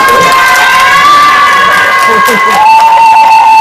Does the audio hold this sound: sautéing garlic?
no